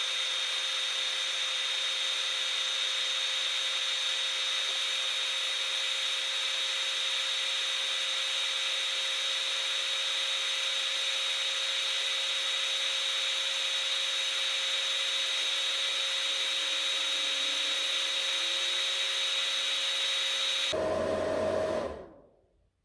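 A cooling fan in an Owon SPE3103 programmable bench power supply runs at full speed, a steady loud whir with a constant tone, before cutting off abruptly near the end.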